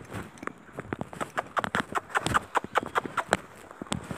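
Horse hooves clip-clop in a steady walking rhythm at a ranch corral during horse training, close and fairly loud with some scuffing steps and no talk.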